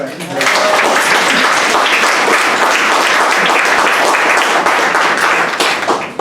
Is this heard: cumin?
no